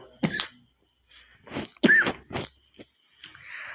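A child coughs a few times in short, soft bursts, spaced apart and close by, with quiet pauses between them in a hospital setting.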